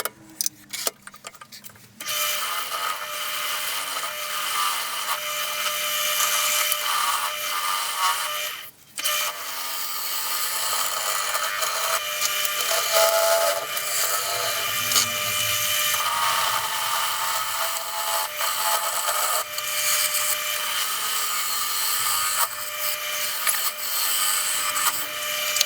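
A wood lathe turns an oval wooden blank round as a tool cuts into it, giving a continuous close scraping and rattling drone with a brief break early on.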